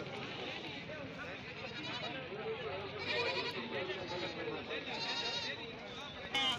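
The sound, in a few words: goats bleating at a goat farm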